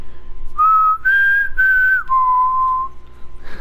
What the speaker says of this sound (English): A safe whistle for when we know the coast is clear